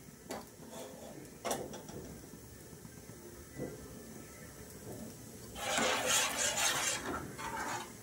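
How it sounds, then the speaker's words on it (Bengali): A wok is lifted off a kitchen stove and a pot of milk is set back on it, giving a few sharp metallic clanks and knocks, then a louder burst of rattling and scraping, all close and fairly quiet. "দেখো আমি এবার এই কড়াইটা একটু নামিয়ে এই যে সেই দুধটা আমি আবার একটু বসিয়ে দিলাম।"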